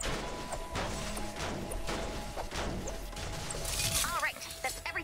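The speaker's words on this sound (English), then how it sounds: "Smashing up some cars and trees." Smashing up cars and trees in Fortnite: repeated heavy crashes and whacks land every half second or so, with game music and effects underneath and a whooshing swirl near the end.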